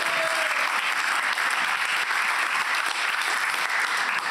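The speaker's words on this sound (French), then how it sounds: "est-ce qu'on peut refaire les applaudissements pour Mario Campione?" Audience at the Unicancer Innovation Awards ceremony gives sustained, even applause for Mario Campione, a dense wash of clapping filling the hall without speech.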